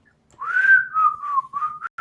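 A person attempting to whistle produces a close, wavering tone that slides down and then breaks into a few short, uneven bursts over about two seconds.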